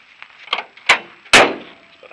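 A Land Rover Series 2a 88-inch door is shut with a solid thud, following a couple of lighter clunks, close by and otherwise quiet.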